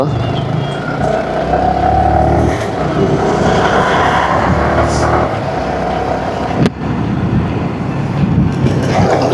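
A Yamaha R15 V3 motorcycle rides behind a lorry on a highway between Hyderabad and Gudur. Loud, continuous engine and road roar with heavy wind rush and truck rumble fill the whole stretch, broken by one brief thump near the end.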